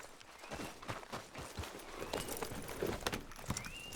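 Horse hooves clip-clop at a steady walking rhythm while riding in the video game Red Dead Redemption 2, close and moderately loud, with brief ambient game sounds around them.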